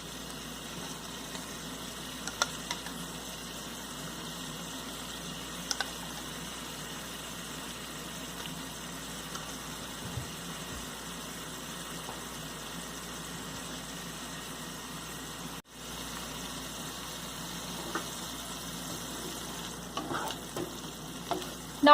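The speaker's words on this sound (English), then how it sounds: "Now I'm going to add tomato." Tomato goes into a pasta red sauce as it cooks and is stirred: a faint, low sizzle runs throughout, with scattered soft spoon scrapes and taps against the pan.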